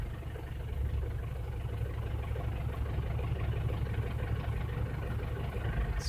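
A 2009 Ford Everest engine idles steadily through a self-test with a low, continuous rumble and a faintly uneven, stumbling beat from a misfire, close and alone with no talking.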